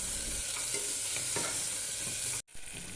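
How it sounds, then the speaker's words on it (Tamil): Chopped tomatoes with onion and ginger-garlic paste sizzle steadily in a pan for wheat rava khichdi, with scraping stirs, close and loud, broken by a brief gap near the end. "நறுக்கி வைத்துள்ள தக்காளியை சேர்த்து நன்றாக வதக்கிக்குங்க"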